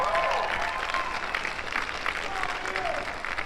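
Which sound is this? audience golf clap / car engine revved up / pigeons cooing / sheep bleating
audience golf clap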